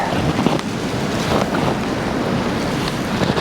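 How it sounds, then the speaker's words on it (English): Powerful wind gusts roar through a forest during a blizzard, a loud, continuous buffeting rush with microphone wind noise and surging swells, no voices. "There's some powerful wind gusts coming through."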